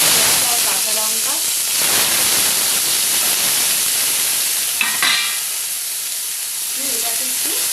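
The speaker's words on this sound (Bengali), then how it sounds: "পেঁয়াজ আর কাঁচা লঙ্কাগুলো একটু ভালো করে ভেজে" Onions and green chilies with fennel seeds stir-fry in hot oil, producing a loud, continuous sizzle with spatula scrapes and clinks against the pan at intervals.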